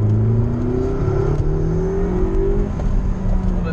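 McLaren sports car engine revving hard on throttle, a loud continuous roar with rising harmonic pitch sweeps as it accelerates, heard up close from inside the car.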